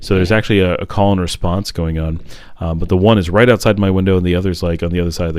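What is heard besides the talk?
No distinct noise like a dog, phone or traffic.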